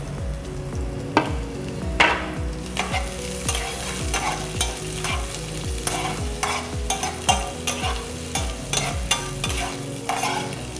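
Sausages and softened vegetables fry in a pan for a breakfast dish, with a continuous sizzle. Repeated scraping and stirring strokes land roughly every half second, close and clear, and no one speaks.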